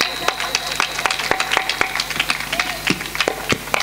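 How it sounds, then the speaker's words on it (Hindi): Audience at a Hindu Bhagwat Katha religious discourse clapping in a loose, fairly regular rhythm of distinct claps, mixed with a speaking voice and faint crowd sounds. "बात सत्य है तो ताली बजाई जाए"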